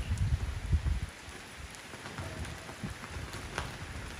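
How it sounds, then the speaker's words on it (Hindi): Steady heavy rain pouring down, a dense hiss with scattered drops and a low rumble early on, no voices. "इतनी जोरदार बारिश हुई है"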